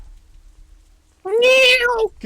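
A single loud, drawn-out cat meow, close by, rising and falling after a quiet moment of faint background noise.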